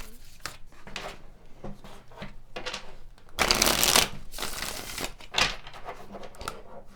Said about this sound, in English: We'll pull some additional tarot cards here to clarify this.